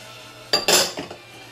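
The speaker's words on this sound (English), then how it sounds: "Put my onions in." Onions tumble into a cooking pot of chili with green peppers already in it, giving a short clattering burst of pot and utensil clinks that rises abruptly and fades within about a second.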